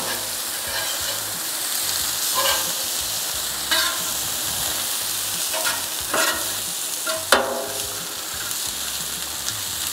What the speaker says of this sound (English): Start mixing it up.